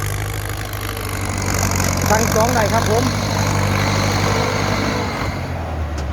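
A Ford 6600 farm tractor engine runs steadily with a low idling drone while pushing soil to fill a pond, heard close under continuous talk from a man.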